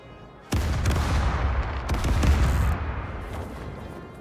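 Ship cannons in the naval game Caribbean Legend fire a broadside, a sudden heavy boom followed by overlapping blasts and a rolling, rumbling roar that gradually fades.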